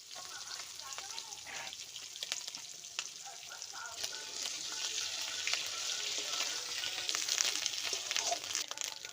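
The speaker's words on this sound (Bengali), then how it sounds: "ডিমগুলো আমার ভাজা হয়ে গিয়েছে" Rohu fish roe coated in salt and turmeric frying in hot oil, a steady close sizzle with crackling pops and occasional stirring scrapes that grows slightly louder over time.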